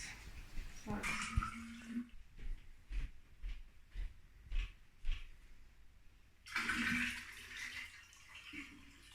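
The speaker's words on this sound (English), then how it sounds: "So maybe I should put the water in first." Water pours into a flower vase, a splashing run that starts and stops, then returns for a second longer stream, close by and fairly quiet, with gaps of soft knocks and rustling between.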